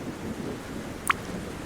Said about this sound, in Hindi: इस वर्षावन में तो बहुत ज्यादा बारिश होती है।